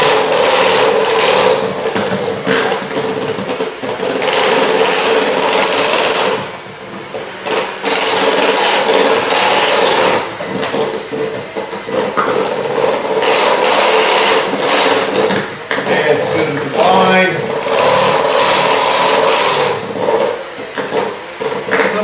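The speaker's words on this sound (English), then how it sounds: "today I chose to go with a regular mixer" An electric hand mixer churns chocolate chip cookie dough in a bowl, a loud continuous motor whir with a gritty scraping texture, dipping briefly now and then as the beaters shift.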